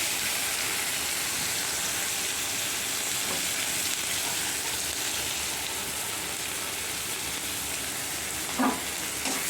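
Finely sliced onions frying in hot oil for an egg dopiaza, a steady, dense close-up sizzle that holds evenly throughout, with a faint stir or clink now and then.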